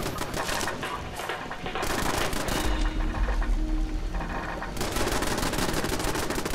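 Automated defensive turrets in Fallout 76 fire loud, rapid bursts of gunfire, dense rattling volleys that pause briefly and then resume, heard up close and unbroken by speech.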